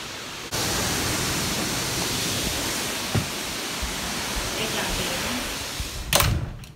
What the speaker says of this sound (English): A freaking massive storm just blew in.